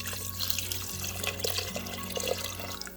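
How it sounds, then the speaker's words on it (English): Two cups of water are poured into an Instant Pot, a continuous splashing gurgle with a steady low hum underneath, close by and without talk. "So after 1 minute, I'm gonna add my 2 cups of water."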